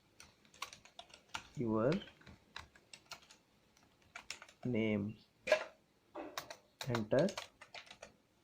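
Typing on a computer keyboard while composing a letter in MS Word, heard as rapid, close clicky keystrokes in bursts, broken by someone speaking at intervals.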